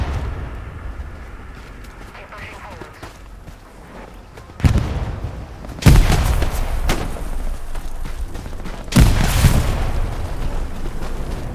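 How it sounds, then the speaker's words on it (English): Grenade explosions in the WWII shooter Hell Let Loose: loud broadband blasts at about 4.6, 5.9 and 9 seconds, each with a rumbling tail over a constant battlefield din, with squad voices talking. "Throwing grenades."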